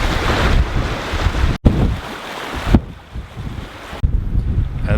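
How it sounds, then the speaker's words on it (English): Strong wind gusting across an open sailing boat at sea, with microphone buffeting and waves washing against the hull, loud and continuous with brief dropouts. "the wind freshens up and we put in a reef"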